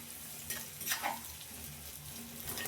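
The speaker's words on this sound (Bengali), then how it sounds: "একই তেলে আমি এবার গাজর কুচি দিয়ে দিলাম। গাজরটাকেও 3-4 মিনিট মতো আমি ভেজে নেব।" Finely chopped carrots fry in oil over a high flame, giving a quiet, steady crackling sizzle with a couple of brief stirring scrapes.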